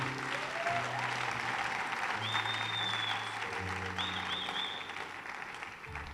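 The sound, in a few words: audience applauding at a church revival meeting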